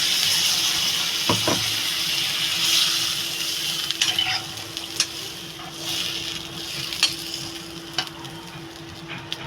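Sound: water poured into raw chickpea curry cooking in pan

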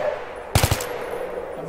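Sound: gunfire from Battlefield video game

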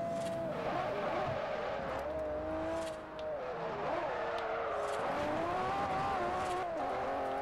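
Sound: car drifting with tire squeal in the video game Forza Horizon

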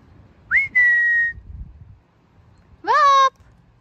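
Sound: whistling to call a dog

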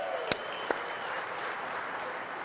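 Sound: audience applause for Joe and his team

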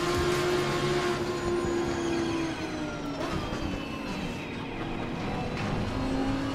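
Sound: race car engine in a racing simulator video game

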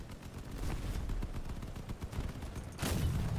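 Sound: gunfire hitting a vehicle in the video game Crossout

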